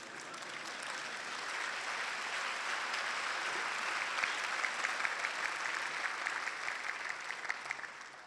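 Applause from an assembly audience during the WHO Director-General's speech at the 68th World Health Assembly: many hands clapping in a large hall, swelling gradually and holding steady with a slight fade at the end.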